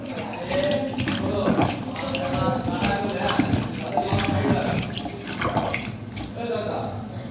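Water from a clay pot is poured into a sherbet drink, a steady splashing, trickling stream heard close and continuous, with a person talking over it.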